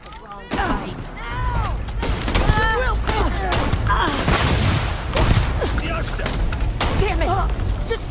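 Rapid gunfire rattles through a firefight in the video game Starfield, with dense bursts of shots and impacts continuing steadily over a busy game soundtrack, and voices speaking in between.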